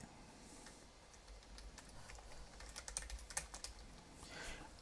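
Quiet, rapid keystrokes on a computer keyboard while a message is typed into a web form, a soft irregular clatter that grows busier toward the end, close and alone.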